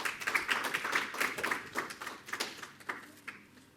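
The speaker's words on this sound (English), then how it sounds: "Can we have a round of applause for Sam?" A small audience at a STEAM awards ceremony claps for a speaker coming up, a scattered, fairly faint round of applause that thins out and fades by the end.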